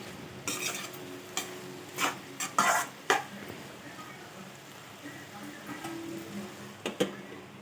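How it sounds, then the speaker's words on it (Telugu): Brinjal curry being stirred in a pan, with spoon scrapes and clinks against the metal breaking through a soft background sizzle in a few scattered bursts. "మధ్యన మధ్యన ఇలా కలుపుతూ ఉండాలండి"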